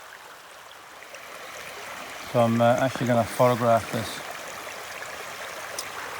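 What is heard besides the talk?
flowing water of a stream in a forest flood plain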